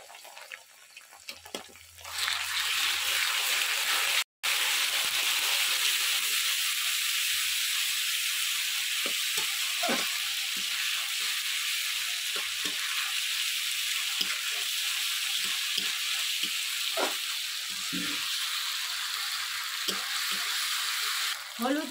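Ginger, garlic, cumin and coriander paste sizzling loudly in hot oil, a sharp rush of hissing that starts after a couple of seconds and carries on steadily, with occasional stirring clinks and brief talk early on.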